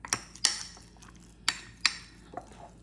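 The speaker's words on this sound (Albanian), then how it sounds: "Fillimisht do sigurohem që ta përziej sa më mirë." Bread dough being mixed with flour in a bowl gives a few sharp utensil clinks and knocks spaced irregularly over a quiet background, close by and with no talk.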